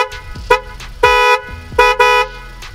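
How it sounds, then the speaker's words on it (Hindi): A loud, close modified car horn on a 2020 Hyundai i20 honks in short bursts, several blasts with a bright musical tone, separated by brief pauses. "इसका हॉर्न भी भाई ने थोड़ा सा मॉडिफाई करके थोड़ा दूसरा हॉर्न लगा रखा है"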